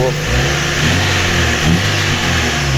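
Daewoo Lanos 1.5 engine idles steadily after cylinder head repair, a loud, close, even hum with a smooth, regular rhythm and no misfires or stumbles.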